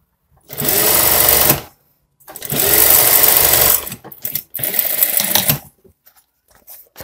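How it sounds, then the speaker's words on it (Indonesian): A sewing machine stitches the front pocket of a scout uniform in three close, loud bursts of rapid whirring, separated by short pauses, with no voices. "yang akan saya jahit adalah bagian saku"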